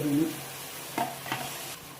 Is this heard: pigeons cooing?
no